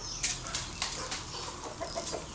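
Backyard hens squabble in a fight, with sharp clucks and squawks and bursts of flapping wings, close and busy over a short stretch.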